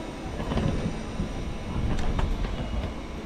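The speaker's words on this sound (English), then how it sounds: "We're on the train." Passenger train running on tracks in Mumbai, heard from aboard: a loud, continuous low rumble and rattle with faint rhythmic clacks of wheels over rail joints, steady throughout.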